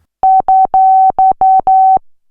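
A Roland System 8 synthesizer's filter resonance plays with the oscillators off, giving a pure, whistle-like tone in six separate notes of varying length, loud and alone.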